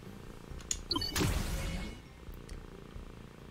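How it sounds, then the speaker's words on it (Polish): A cat purrs softly in the Ben 10 Power Trip video game, a low, faint rumble with a brief clatter of game effects partway through. "Jeszcze jak mruczy."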